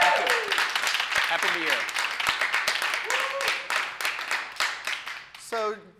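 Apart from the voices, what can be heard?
audience applause for a guest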